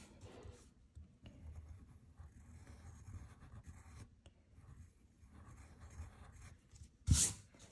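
Faint, scratchy strokes of a pencil drawing and erasing on paper at close range in a quiet room, with a brief louder rustle near the end.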